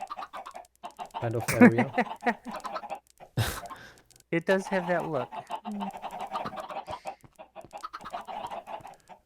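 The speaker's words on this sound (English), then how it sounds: "I am listening to all the chickens ever" Minecraft chickens clucking in bursts around a short loud thump, mixed with the game's ambience while someone talks over them through much of the stretch.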